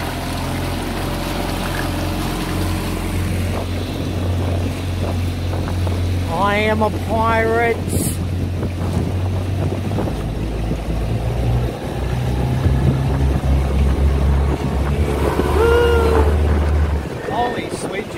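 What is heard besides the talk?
motorboat engine accelerating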